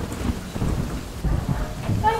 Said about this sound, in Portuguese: Tá chovendo muito forte.